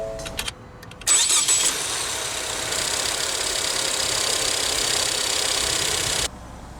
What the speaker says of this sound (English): let's go ahead and start the engine. It does also have push-button ignition.